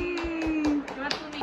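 Hands clap in a steady rhythm to accompany a dance, roughly six sharp, evenly spaced claps close by, with a sustained singing voice running beneath them.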